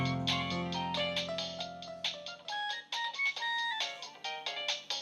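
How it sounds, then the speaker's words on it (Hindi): A phone ringtone plays a bright, repeating melodic tune for several seconds at steady moderate volume, with no talking over it. "आलिया का फोन है, लो उठा।"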